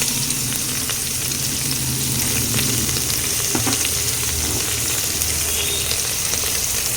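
Onions and curry leaves fry in hot oil for khichdi, a steady loud sizzle that runs unbroken throughout with no talking.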